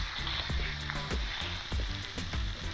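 Onion goes into a pot of autumn mushroom soup, sizzling steadily up close while soft, regular knocks of stirring punctuate the hiss.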